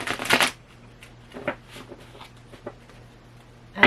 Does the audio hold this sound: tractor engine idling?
no